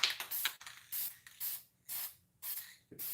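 Gold spray paint going over a black base coat on a handmade wooden dough bowl: about six close, hissing aerosol bursts of roughly a third of a second each, separated by short pauses.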